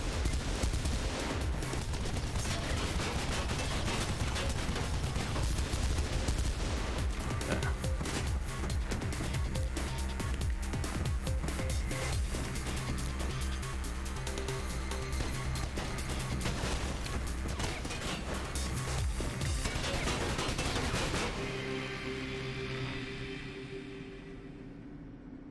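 Sustained video game gunfire aimed at the player, a dense and continuous rattle of rapid shots lasting about twenty seconds before cutting off abruptly and leaving a quieter tail.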